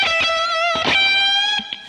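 Aggressive electric blues lead tone from a Fractal FM3 unit, sustained bent notes with pick attacks and a gritty edge, close and loud, ending on a short picked phrase, no talking.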